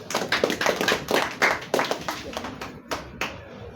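An audience claps at the ETA Awards Kenya 2023 unveiling event, a brief round of close, lively applause that thins out toward the end.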